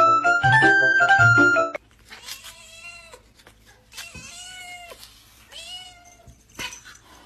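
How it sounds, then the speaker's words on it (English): A cat meows several times in drawn-out, wavering cries, following a short burst of loud tonal ringing at the start. "Okay, Kitty, just like we talked about, be nice to the kitten, okay?"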